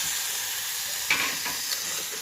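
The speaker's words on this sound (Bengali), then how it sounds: "এবার এই মাংসটা এর মধ্যে দিয়ে দিচ্ছি।" Chicken pieces for chicken kosha hitting hot spiced oil, a close, constant hissing sizzle with a brief louder crackle burst as the meat goes in.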